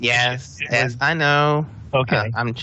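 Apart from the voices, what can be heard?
None of the usual background noises is heard.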